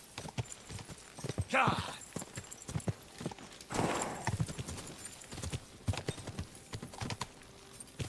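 Hoof beats clatter in an uneven rhythm, with bursts of noisy movement and scattered knocks, fairly close and moderately loud.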